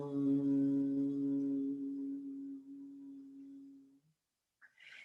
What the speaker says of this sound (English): The bumblebee breath is simple humming.